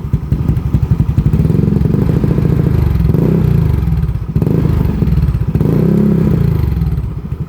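A 200cc scooter engine revs loudly and close, swelling and falling in repeated throaty surges with a rough, pulsing rattle underneath.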